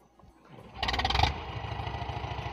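A Valmet tractor being bump-started coughs into life, first a rising mechanical rumble, then a loud burst of engine noise, settling into a steady, rapid chugging idle up close.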